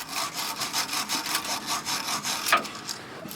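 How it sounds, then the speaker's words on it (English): A wire brush scrubs surface rust on a Toyota Supra in quick back-and-forth strokes, a close, steady rasping scrape with no talk. "You can do this using a wire brush"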